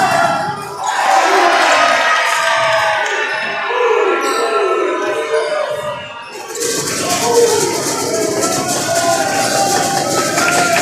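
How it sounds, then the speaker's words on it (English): A crowd at a basketball match roars and cheers loudly after a lob, a dense sustained wall of voices that swells partway through. "The crowd is loving that, as they should."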